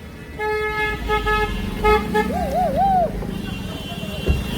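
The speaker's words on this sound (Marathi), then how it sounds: "लय ट्रॅफिक आहे मरणाची ट्रॅफिक" Heavy road traffic with several car horns tooting in short repeated bursts, one warbling, over a steady engine rumble close by.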